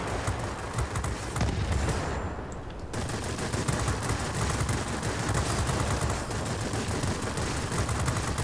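A VB 10 fighter plane in World of Warplanes fires its four 20mm cannons in dense, rapid bursts of loud, close gunfire, briefly pausing before resuming sustained fire over an engine drone, with no speech.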